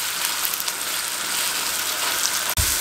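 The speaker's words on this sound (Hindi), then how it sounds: "5 मिनट हम कीमे को भूनेंगे अच्छे तरीके से" Beef keema fries over a high flame, giving a dense, even hiss of sizzling that runs continuously, with a brief sharp knock near the end; no voices.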